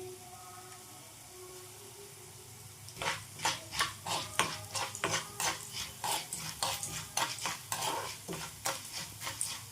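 Two tablespoons of cumin seeds roasting in a pan. A soft hiss gives way to rhythmic, repeated stirring scrapes with light crackle, close and fairly loud, with no voices.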